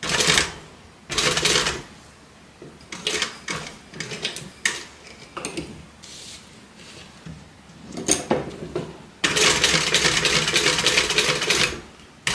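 A sewing machine stitches close by in a quilting setting, running in rapid mechanical bursts that start and stop several times, ending in a long steady run, with no talking.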